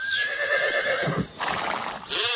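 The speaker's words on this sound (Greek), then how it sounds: "Σου φαίνεται αυτό που μόλις άκουσες πάρ άλογο?" A horse neighs twice in loud, close whinnies, with a short gap between them, and nothing else is heard.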